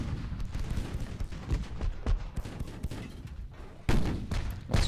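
Battleship secondary guns fire in Ultimate Admiral: Dreadnoughts as a dense barrage of overlapping booms and cracks, loud and continuous, with a sharper burst near the end.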